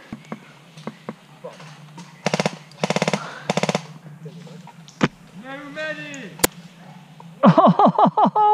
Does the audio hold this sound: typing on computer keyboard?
no